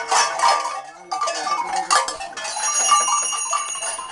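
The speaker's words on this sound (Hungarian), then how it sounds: "Hallod öreg, harangoznak Betlehembe." Church bells clang in bright, overlapping peals, ringing unevenly for a few seconds, fairly loud with lingering metallic tones.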